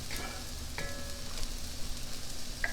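Food simmers under a lid in a pan, giving a soft steady sizzle with faint bubbling and a few light metallic clinks. No one speaks.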